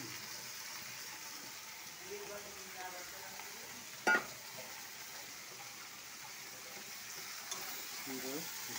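Fish roe fries with chili paste in a pan, sizzling steadily while being stirred, with one sharp utensil clack midway and faint background voices.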